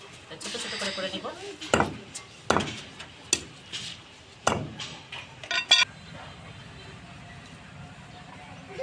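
Duck meat is chopped into small pieces in a home kitchen, with a series of sharp, irregular knocks against a board, some close together, under intermittent talking.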